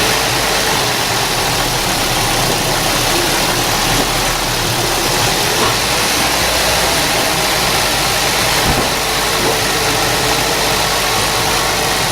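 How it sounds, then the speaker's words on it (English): A 2007 Toyota Prius engine idles steadily with a constant low rumble and faint vibration, loud and close, with no talking throughout. "So now I'm just going to run the engine."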